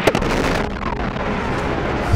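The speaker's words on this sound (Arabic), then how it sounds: "إطلاق نار من الجندرمة التركية لإخافة المظاهرين" Gunfire from Turkish gendarmerie shooting to scare protesters: a few sharp cracks at the very start, then a loud, rumbling wash of outdoor noise.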